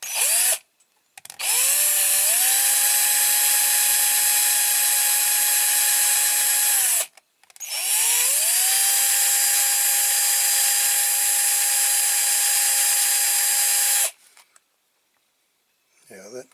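A wire brush spun by a power drill scrubs rust from a Corgi Toys Fiat 1800 die-cast model car, a loud whining grind running in two long bursts separated by a brief stop, the pitch dipping as each burst starts.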